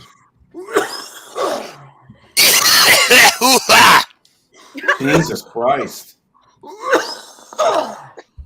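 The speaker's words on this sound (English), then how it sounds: "Just my natural smoker's hack." A man with a smoker's cough coughs in a harsh, rattling burst of several hacks, with people talking before and after.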